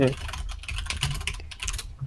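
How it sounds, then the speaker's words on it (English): Rapid, furious typing on a computer keyboard, a dense run of close clicking keystrokes that continues steadily for about two seconds. "Furious typing."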